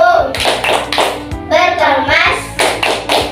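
A classroom group claps the rhythmic Indonesian going-home clap routine together, loud and close. The claps fall in quick patterned bursts between chanted children's voices.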